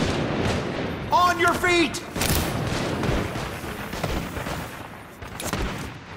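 Sniper rifle fire crackles and booms in the tactical shooter Caliber during a night fight at a hotel, a cluster of heavy shots and rumbling impacts mixed under a shouted voice command and game noise.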